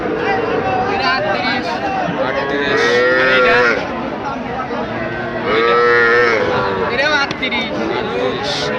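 Sahiwal bulls at a cattle market in Dinajpur, several loud, drawn-out moos close by, rising over people talking and bargaining.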